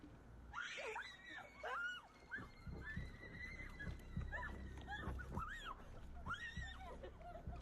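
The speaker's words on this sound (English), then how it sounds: "The group hears a terrifying scream and runs back to the car." Terrified girls screaming at night, shrill wavering cries rising and falling in repeated bursts, close and loud, mixed with frantic voices and rustling movement.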